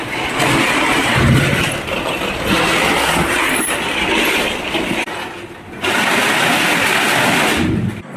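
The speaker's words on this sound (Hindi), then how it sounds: "ठंडा ठंडा सा पानी गिर रहा है।" Rain falling hard during a windy storm, a loud steady rushing hiss with gusting swells and dips, continuous throughout with no voices.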